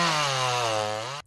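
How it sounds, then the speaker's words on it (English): A high-powered chainsaw runs at a steady, loud, close whine as it cuts through trees toppled by a storm, then stops abruptly. "high-powered chainsaws cutting through toppled trees from the storm"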